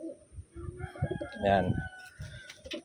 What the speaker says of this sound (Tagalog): Malaking ibon guys.